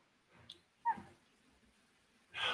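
A dog whimpers and yips briefly during an online meeting, short faint cries separated by pauses, then a louder burst at the end, with no talk.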